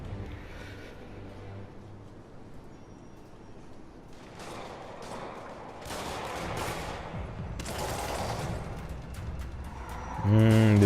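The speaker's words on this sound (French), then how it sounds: "Des petits coups de feu." Scattered bursts of gunfire in the video game Spider-Man crackle over a steady low background rumble, several shots clustered close together in the middle stretch.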